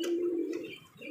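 An almond-colored Iranian pigeon gives a short, steady, low coo, heard close and alone.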